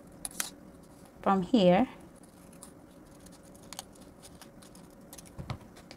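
Scissors cut out paper letters for a Halloween banner, giving a few crisp, close snips with quiet pauses between them. A person speaks briefly in the middle.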